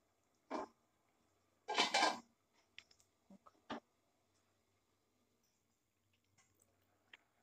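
A metal lid goes onto a cooking pot of carrot halwa, giving a few short, faint clinks and scrapes, one brief rattling clatter, then small taps in a quiet kitchen.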